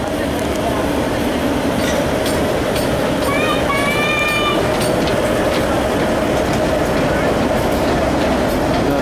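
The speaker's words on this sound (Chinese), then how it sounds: "阿里山火车从阿里山的神木站准备要开走喽" An Alishan Forest Railway train at Shenmu station in Taiwan just after rain, rumbling steadily and close by with a constant rolling noise, with a brief whistle-like tone partway through and voices mixed in.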